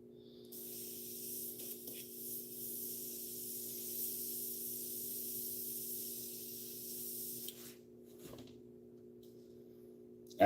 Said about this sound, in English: I don't spray this high for anything else